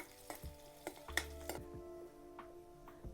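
Chopped garlic frying in a pan, with a low steady sizzle under sharp intermittent clicks and scrapes of a spoon stirring against the metal, fairly quiet and close with no talk.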